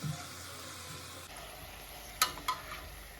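Thin khvorost dough frying in hot oil, a quiet continuous sizzle that shifts partway through, followed by two brief sharp clatters close by.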